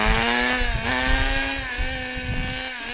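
A vintage Kyosho Sandmaster 1/10 scale 2WD nitro RC buggy engine screams at a steady high pitch, loud and close, holding a sustained buzzing whine for the full three seconds.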